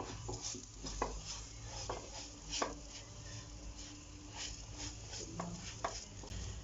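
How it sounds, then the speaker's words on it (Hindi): Rava laddu mixture with sugar and crushed cardamom being mixed by hand in a vessel, soft quiet scraping with occasional light knocks of a spoon against the bowl. "हम शुगर को इसमें डाल के अच्छे से मिक्स कर लिया है।"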